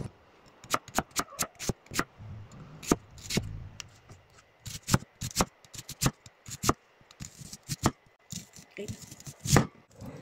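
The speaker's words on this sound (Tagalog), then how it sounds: "At natapos na nga tayong mag-slice ng ating mga ingredients." Knife slicing garlic, onion and vegetables on a cutting board for vegetable adobo: a quick, uneven run of sharp, close taps and cuts, some in fast clusters, with short pauses between.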